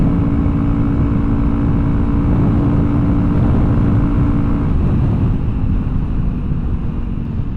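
A big-bore Honda CRF300L dual sport motorcycle holds about 7,000 RPM at 75 mph, its engine a steady drone buried under heavy, constant wind roar that fills the whole stretch.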